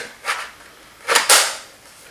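Magazine snapping into a G36C airsoft rifle, a few sharp plastic clicks and a firm latch close up, with a quiet pause between the first click and the final snap.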